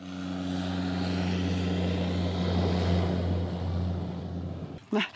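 A propeller airplane over the Serengeti in Tanzania drones steadily nearby with a low, humming engine tone, fading slightly toward the end before a brief voice cuts in.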